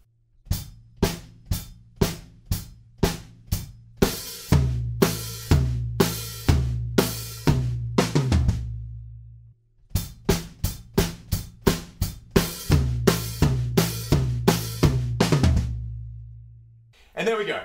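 Drum kit playing the outro of a song: crisp, evenly spaced hits with a rolling snare and tom pattern, a brief pause midway, then the groove resumes, loud and close with no voices.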